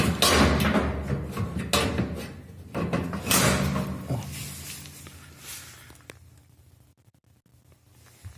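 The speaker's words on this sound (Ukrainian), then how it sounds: "Закриваємо решіточку." The grille of a cubic display refrigerator is closed with a series of metallic rattles and scraping knocks, fading to a quieter hum, with brief speech nearby.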